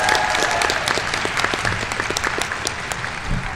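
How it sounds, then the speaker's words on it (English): A crowd at a high school graduation ceremony applauds the first graduating class of a virtual learning academy, brisk dense clapping with some distinct individual claps, loud and sustained. "give them a round of applause"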